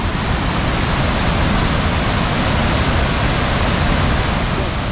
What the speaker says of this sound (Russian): О, тут брызги летят. Смотрите, какой поток.